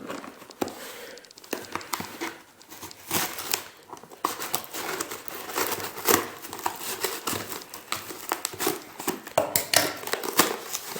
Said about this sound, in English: It'd be really nice if I had a knife instead of these scissors